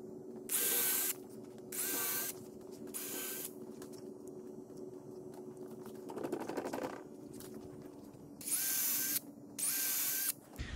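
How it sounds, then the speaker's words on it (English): A power drill whirs in several short bursts, close and loud, pre-drilling wood, with a brief lower grinding sound between them. "I'm going to pre-drill here and here, and pre-drill across"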